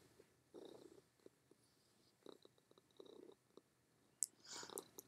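A contented house cat purrs softly and close by in faint rumbling bursts over several seconds, with a small clink and rustle near the end and no talking.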